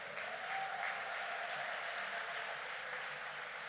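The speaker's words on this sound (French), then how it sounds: "Put your hands together for the Lord." A church congregation at a Sunday service claps and cheers together, a steady, dense wash of applause that stays fairly even and moderately distant throughout.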